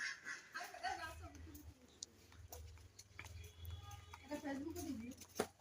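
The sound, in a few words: ducks quacking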